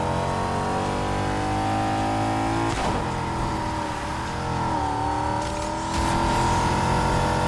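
Honda NSX engine in Need for Speed Heat roaring steadily at high revs, with a shift dip near three seconds and pitch changes as it keeps accelerating, loud and continuous with no talk.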